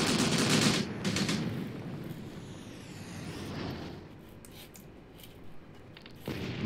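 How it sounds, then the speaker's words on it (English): A tank fires in the war game Graviteam Tactics: a heavy, booming report opens the moment, then a long rumbling decay and distant battlefield noise, with another blast rising near the end. "Nice shot by the tank. Completely missed, but that was a powerful shot, man."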